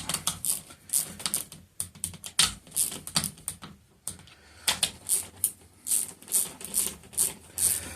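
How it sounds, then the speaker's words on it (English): Sharp, light clicks sound repeatedly in an irregular rhythm while a torque wrench set to 3 Nm tightens battery terminal nuts on a LiFePO4 battery kit. The clicks are close and distinct, with no talking. "I'll set this torque wrench at 3 Nm and get it to where it clicks"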